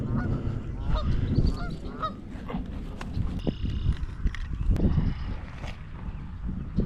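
Geese near a pond, where people are bluegill fishing, give repeated loud, close honks in uneven bursts, with a few fainter calls and rustling steps between them.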